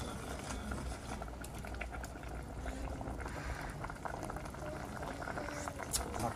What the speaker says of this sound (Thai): ต้มใหม่เคี่ยวให้เดือดเคี่ยวไปให้เดือด